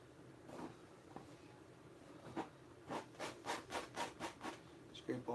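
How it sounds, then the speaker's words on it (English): Paint scraped off a canvas with a palette knife during an oil landscape painting, starting with sparse soft scrapes, then a rapid run of rhythmic rasping strokes, close and fairly quiet. "Scrape all the excess paint off too."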